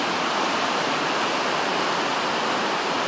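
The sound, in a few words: Lewis River flowing, Gifford Pinchot National Forest, Washington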